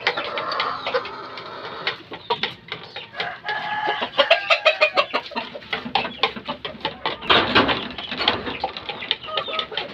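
Peruvian stag roosters and hens cluck and squawk busily close by, with a rooster crowing amid the flock's continuous chatter.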